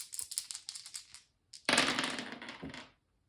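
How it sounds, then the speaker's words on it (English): Dice clatter and rattle during a tabletop game re-roll, a burst of light clicking taps followed after a short pause by a louder tumbling roll that settles, close and alone. "And that means I get to re-roll however many dice I was rolling."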